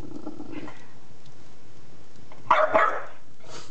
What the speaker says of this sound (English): That's a big bulldog bark.